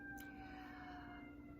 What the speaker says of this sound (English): I live between two hospitals, so excuse the ambulance if you can hear it.